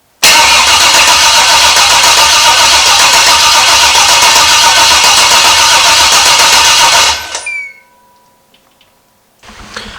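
An LS V8 engine in a GMT400 truck, freshly swapped in from a long block, cranks and fires, running loud and steady for about seven seconds before it is shut off and winds down into near silence.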